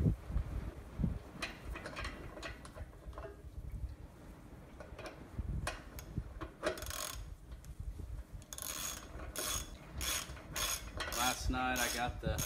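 A ratchet wrench bolts a tractor's air filter housing back down on a Valtra A95, giving quiet, close, irregular clicking bursts that grow into a rapid run of ratchet strokes near the end.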